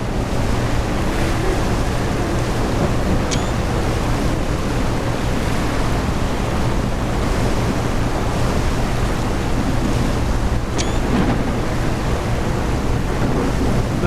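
Ocean waves in the ship sim game Seafarer, a steady loud roar of surf and rushing water mixed with wind noise, constant throughout with a couple of faint high chirps.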